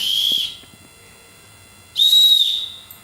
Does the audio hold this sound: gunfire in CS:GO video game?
no